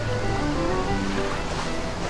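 Sea waves from the video game Bioshock Infinite wash steadily in a continuous rushing surf, with no voices over it.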